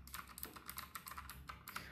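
Rapid clicky keystrokes on a compact 60% mechanical gaming keyboard with blue switches, a steady irregular patter of close, crisp presses with no voice.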